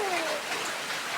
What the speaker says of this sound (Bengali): দেখুন বাইরে বৃষ্টি হচ্ছে আর হচ্ছে